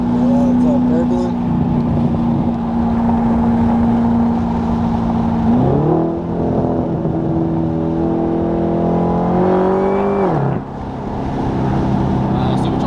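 A 600 hp supercharged 2013 Cadillac CTS-V burbles loudly up close, its steady engine drone rising and falling in pitch with two brief revs.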